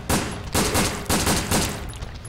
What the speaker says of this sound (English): Can I shoot your legs to make you fall over?